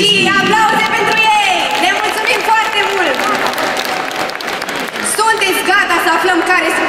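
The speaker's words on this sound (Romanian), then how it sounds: "Aplauze pentru ei!" Audience applause and cheering at a high school freshman ball, a dense, loud wash of clapping mixed with shouting and whooping voices that continues throughout.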